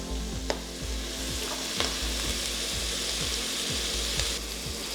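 Onions and garlic sweat in oil in a pan with red pepper flake, a soft steady sizzle with regular scraping stir strokes about twice a second, close by and with no voices.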